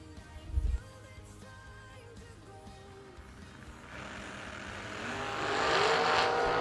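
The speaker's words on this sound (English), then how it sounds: "Chris Wigfall, 1990 model Dragster, 358 inches of Chevrolet sitting behind his head" A 1990 dragster with a 358-cubic-inch Chevrolet engine races at a drag strip event, its roar building from a distant hum into a loud, rising blast over the final seconds.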